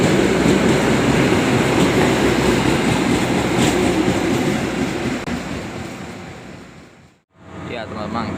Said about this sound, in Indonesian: kereta Matarmaja baru tiba di stasiun Solo Jepres